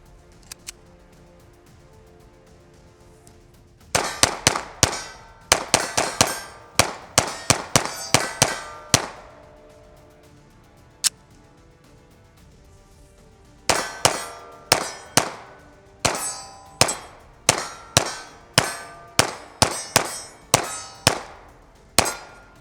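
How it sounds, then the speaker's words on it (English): A ported CZ P10C pistol fires two magazines in sharp, loud, evenly spaced shots, one string of about a dozen rounds, a brief pause, then a second string, with no talking. "let's go ahead and run the CZ P10C Ported. 2 mags clean."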